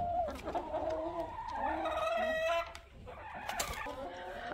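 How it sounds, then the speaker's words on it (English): Backyard chickens, Rhode Island Reds and brown and white Brahmas, cluck and squawk close by in a steady, busy run of calls, with one longer drawn-out call partway through and faint outdoor background noise. "All right, so there are our chickens."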